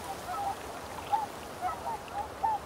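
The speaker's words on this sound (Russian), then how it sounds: "Семьи лебедей собираются на открытых мелководьях." Swan families calling on open shallow water, a handful of short honking notes spaced irregularly at a moderate distance over a soft steady background of water and air.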